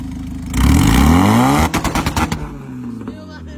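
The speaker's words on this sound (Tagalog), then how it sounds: "Pinaputok pa yung pops and bangs." A car engine revs up loudly, then a rapid burst of sharp exhaust pops and crackles rattles out before fading.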